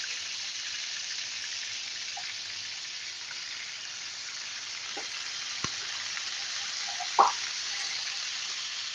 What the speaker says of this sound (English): Look at that fry.